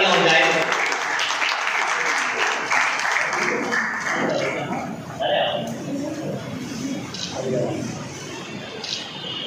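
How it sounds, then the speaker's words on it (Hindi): Audience applause at an awards ceremony honouring topper students, a sustained crowd clapping that fades over several seconds, mixed with a speaker's voice and background chatter. "मैं आपसे गुजारिश करता हूँ कि इनके लिए जोरदार तालियां हो जाए।"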